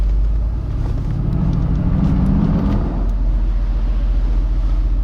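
A car engine rumbles loudly and close, its tone rising in a brief rev before settling back into a steady low drone.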